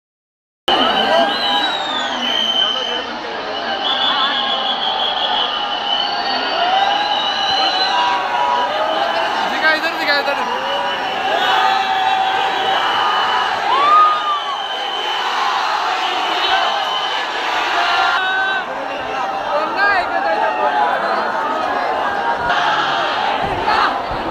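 A dense crowd at a T20 World Cup celebration along Marine Drive roars and chants continuously, with shouts, whoops and whistles rising out of a thick wall of massed voices.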